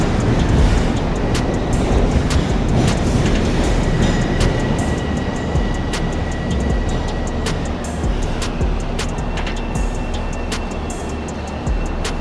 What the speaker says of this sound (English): there's a Ronkonkoma bound train coming on track 8 at 2:25